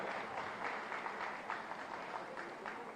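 A crowd at a BJP party gathering claps continuously to welcome a speaker, producing dense, even applause that stays moderately loud throughout and never breaks.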